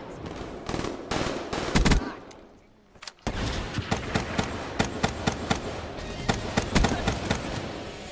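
Rapid bursts of automatic gunfire from the video game Call of Duty Black Ops III, loud and close, with a brief lull before the shooting resumes in steady repeated volleys.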